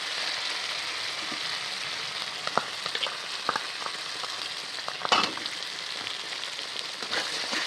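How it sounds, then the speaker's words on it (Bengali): Tomato puree fries in oil, giving a steady close hiss and crackle, with occasional soft clinks and scrapes of a stirring spoon, one louder burst near the middle. "টমেটো পিউরি দিয়ে আমি আস্তে নাড়তে থাকবো"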